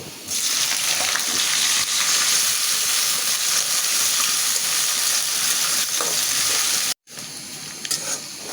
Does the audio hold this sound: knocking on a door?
no